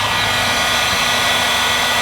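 A heat gun, a tool like an industrial hair dryer, blows hot air in a steady, loud, continuous whoosh that holds unchanged from start to finish with no voices.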